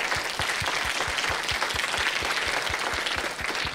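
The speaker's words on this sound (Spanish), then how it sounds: "Un fuerte aplauso, por favor" Conference audience at Innotransfer 2024 gives panel speakers a strong, sustained round of applause, dense even clapping throughout with faint low thumps pulsing beneath, no speech.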